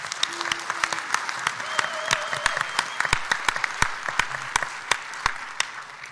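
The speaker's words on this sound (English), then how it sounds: "Please give him a round of applause." Audience clapping at a PAX East 2019 convention panel, a moderate crowd producing sharp, irregular claps at steady strength for several seconds, with faint voices mixed underneath.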